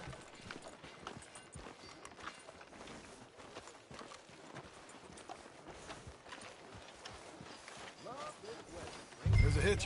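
Horse hooves clip-clop steadily in Red Dead Redemption 2, a mid-distance walking rhythm running the whole time beneath game voices, with a louder burst at the very end.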